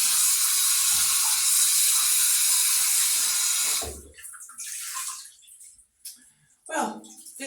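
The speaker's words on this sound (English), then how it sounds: "when I rinse it, I just get the water out a little bit" Water streams steadily while dreadlocks are rinsed in a bath, a loud continuous wash for about four seconds, then it stops and only faint intermittent splashes and drips follow.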